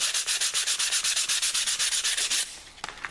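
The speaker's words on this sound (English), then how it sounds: "use various grades of abrasive paper to get that smooth" 240-grit abrasive paper rubs rapidly back and forth over modeling foam in steady close strokes, about twenty quick passes, then stops with a few faint scrapes.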